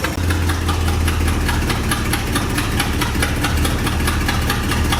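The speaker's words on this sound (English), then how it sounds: "Wow, that's very low idle, but finally." An International 1110 truck engine idles very low, a steady deep rumble with a regular knocking pulse, close and continuous throughout.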